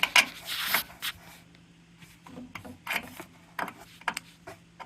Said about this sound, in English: now I can get the wrench on it